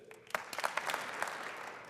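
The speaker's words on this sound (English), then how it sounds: "Give me a 2 clap if it was any good." A crowd claps briefly and sparsely at a State of the City 2017 address, a scattering of individual claps that rises quickly and then thins out.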